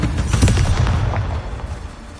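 A booming explosion from the Bombarda spell in a Harry Potter–style game, a loud rumbling blast that fills the moment and then slowly decays.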